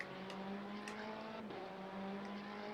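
A race car in the racing game Le Mans Ultimate drones on steadily at a constant, quiet engine pitch, with faint tire and track noise, and no one talks.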